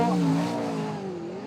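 A race car at a speedway time trial accelerates away, its engine a loud, close rising roar that holds and then eases slightly as it pulls off down the straight.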